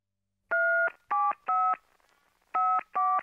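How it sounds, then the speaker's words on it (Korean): Five loud, close touch-tone beeps from a telephone keypad, with a short pause before the last two presses, as someone dials to call his son. "내가 아들놈한테 전화를 한번 해봐야겠다"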